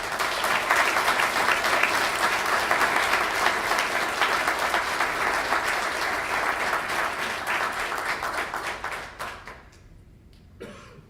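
Sustained audience applause at a teaching award ceremony, dense and loud clapping from a large crowd with a cough or two, fading out near the end.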